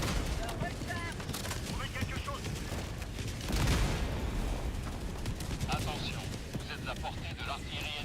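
Walking barrage artillery strike in Helldivers, a continuous rumble of explosions and distant booms rolling through the scene, with a stronger swell midway, steady and dense throughout.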